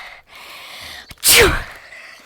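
A single sharp, loud sneeze bursts out after a quiet intake of breath, close to the microphone.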